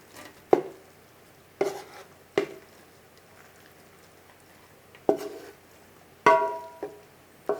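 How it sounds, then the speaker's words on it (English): Thirty large scrambled eggs being moved from a heavy giant pan into another pan, heard as scattered clanks and scrapes of utensil on metal separated by quiet gaps, close by and with no talking. "I'm going to see if I can transfer over to this pan right here."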